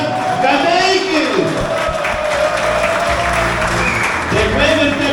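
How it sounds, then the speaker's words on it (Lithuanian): A crowd at a motocross cup annual awards ceremony applauds loudly and continuously, with cheering and a voice speaking over the clapping. "Tikrai visi aplodismentai."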